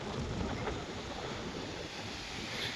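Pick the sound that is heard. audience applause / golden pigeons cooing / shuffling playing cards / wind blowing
wind blowing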